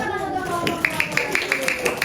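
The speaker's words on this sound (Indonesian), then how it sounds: "Oke, kita berikan tepuk tangan best." A classroom of sixth-grade students gives a short burst of rhythmic group clapping for classmates, a quick series of sharp, evenly spaced claps close by in a lively room.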